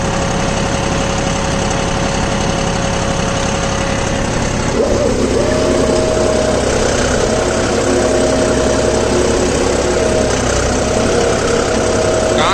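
A John Deere 5405 CRDI tractor runs in first gear at about 1400 rpm while pulling a cultivator through a wet field. Its engine drones loud and steady at close range, with a slight shift in tone midway.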